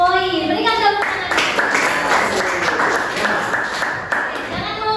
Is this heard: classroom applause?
yes